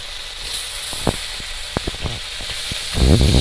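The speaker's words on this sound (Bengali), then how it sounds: "বাকি মাছগুলোও ভেজে নেব" Bhola fish pieces fry in hot oil with a steady close sizzle and hiss broken by sharp crackles and pops, swelling louder toward the end.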